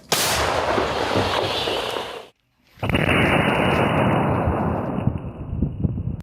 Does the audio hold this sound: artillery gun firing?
yes